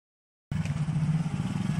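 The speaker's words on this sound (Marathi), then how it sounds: "पूर्ण गाडी अडकते. हे बघ यांची गाडी." A motorcycle stuck on a muddy jungle trail near a fort drones with a steady low engine rumble that cuts in abruptly after a short silence, close and moderately loud with slight clatter.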